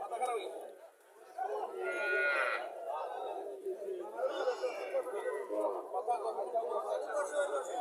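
A cow lets out a long, low moo near the start while being walked past buyers at a village cattle market in Comilla, with people chattering around it throughout.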